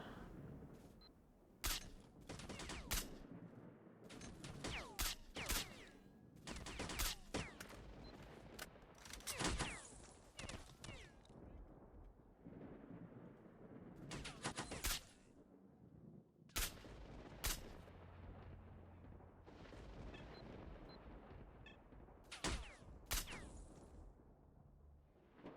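Video game gunfire crackles in repeated sharp bursts and single shots, dense rattling volleys separated by brief pauses, all quite faint overall.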